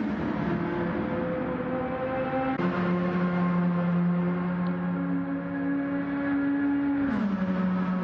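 Race car engine in the Gran Turismo 7 video game on PS5, a steady high-revving drone holding pitch, then a brief drop as a gear shifts before climbing again, with a second shift near the end; loud and continuous with no talking.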